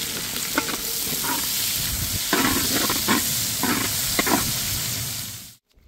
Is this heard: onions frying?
yes